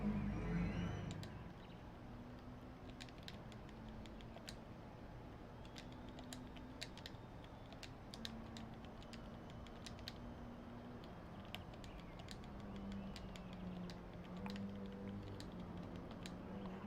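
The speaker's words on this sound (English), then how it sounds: "sorry guys, I'm typing." Computer keyboard being typed on during a Gran Turismo Sport racing session, with quiet scattered key clicks over a steady low hum, fairly faint and without talk.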